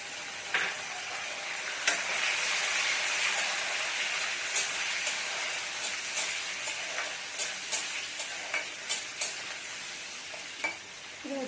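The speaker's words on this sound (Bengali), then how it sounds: "কাঁচা লঙ্কাগুলো ভাজা ভাজা হয়ে গেল" Green chillies and chopped tomato fry in hot oil in a pan for a fish curry, with a constant bright sizzle broken by sharp crackles and pops.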